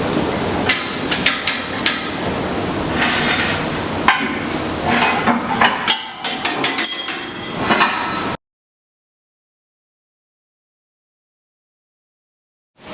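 A bearing being hammered onto a shaft with a pipe: sharp metallic hammer blows land in quick irregular clusters, close and loud, followed by sudden silence with no talking.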